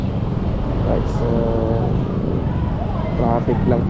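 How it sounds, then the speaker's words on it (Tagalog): Continuous road traffic rumbling in a busy Philippine town, with vehicle engines and passing cars as a steady low roar beneath people talking. "traffic lang pala"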